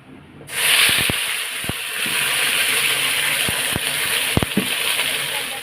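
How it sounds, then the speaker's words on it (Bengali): Spices poured into a hot pan over fried potatoes, bay leaf and dried red chillies set off a sudden loud sizzle that holds steady, with sharp spatula clicks and scrapes scattered through the stir-frying. "এই দেখো এখন মশলাগুলো সব ঢেলে দেবো"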